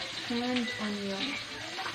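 Garlic and onion fry in hot oil with a steady sizzle running underneath, while a voice speaks over it throughout.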